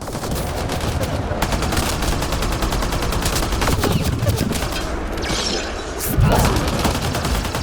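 A firefight in Mass Effect: Andromeda on the planet Elaaden, with loud, rapid bursts of automatic gunfire crackling almost nonstop and a heavier boom near the end.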